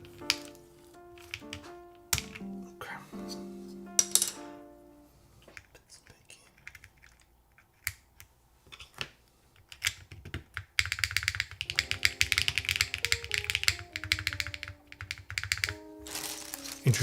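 Typing on a custom Integral mechanical keyboard with GMK keycaps, a traditional gasket-mount build, with dense clacky keystrokes that come in bursts and pauses, close and crisp, with quiet talk and other sounds mixed in at times.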